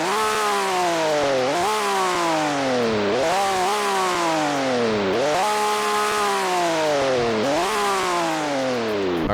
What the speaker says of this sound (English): here's how this thing sounds. Loud idle. Dual exhaust at the back.